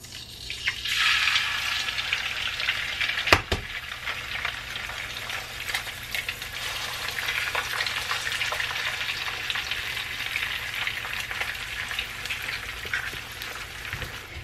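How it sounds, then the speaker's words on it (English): Eggs frying in bacon grease in a pan, a steady close sizzle and crackle that runs the whole time with a few louder pops and no talking. "I am gonna go ahead and make my eggs in there"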